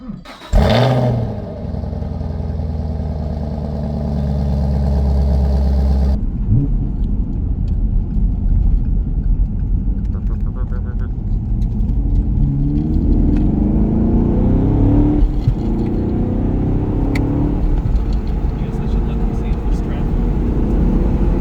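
A 1967 Plymouth Barracuda daily driver's engine starts with a loud rev, then settles into a steady, rumbling drone as the car drives along, its pitch rising and falling gently through gear changes over a low road rumble.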